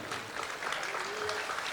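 A church congregation claps steadily throughout, a dense patter of applause at moderate volume, with no clear voices.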